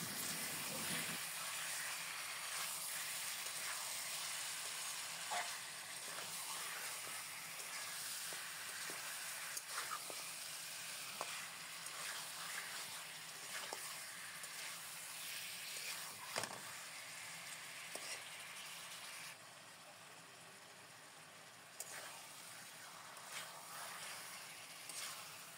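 Chopped tomatoes frying in masala chicken in a pan, a continuous broad sizzling hiss with occasional soft stirring scrapes, steady and moderately close throughout.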